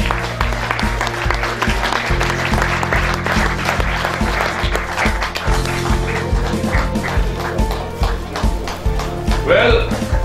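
Audience applause at an awards-style event welcoming a music director, steady clapping layered under a loud rhythmic music track with a repeating beat.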